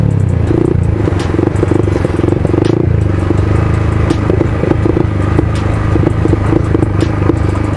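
A Yamaha MT15 motorcycle engine runs close by with an uneven, sputtering rhythm as it runs low on fuel, mixed with rattling and clatter throughout.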